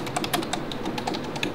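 Keys clatter on a computer keyboard as the WASD keys are pressed to navigate a game menu, a quick irregular run of close, crisp taps lasting under two seconds with no talk.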